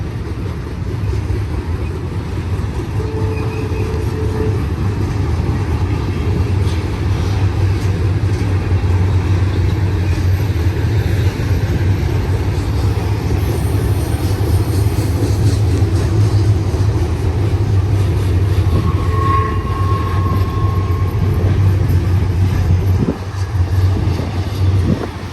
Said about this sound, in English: This is our third train.